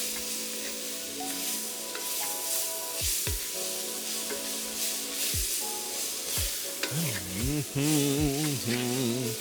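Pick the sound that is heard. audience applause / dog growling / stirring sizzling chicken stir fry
stirring sizzling chicken stir fry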